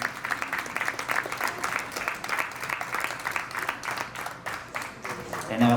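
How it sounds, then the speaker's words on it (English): Guests at a wedding reception clap in a warm round of applause for a speaker, the dense patter swelling and easing with voices mixed in beneath it. "Round of applause for Melissa,"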